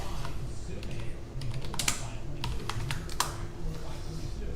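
Quick typing on a computer keyboard during live stock trading, with irregular bursts of close, crisp key clicks over a quiet room hum and no talk.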